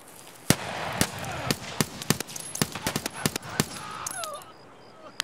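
Sharp gunshots crack in Escape from Tarkov in an outdoor firefight, a dozen or so irregular, fairly close reports over a hissing ambient background, with no talking.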